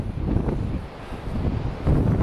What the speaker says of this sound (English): The sea is just battering the land. It's so windy.